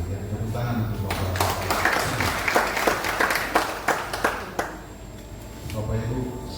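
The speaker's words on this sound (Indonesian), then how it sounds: "Tepuk tangan untuk Bapak." Audience applause at a church regional assembly opening ceremony: a speaker talks, then a burst of clapping with distinct individual claps that thins out before talking resumes.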